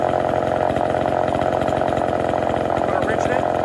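An old chainsaw, with seals around 40 or 50 years old, runs loud and close in a steady rough two-stroke rattle that holds throughout, with a voice faintly underneath.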